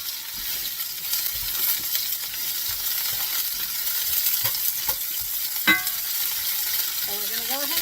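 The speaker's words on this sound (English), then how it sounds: "So we're going to go ahead and brown this squash" Squash browning in a hot pan sizzles continuously with a bright hiss, broken by a few stirring scrapes and clinks of a utensil near the end.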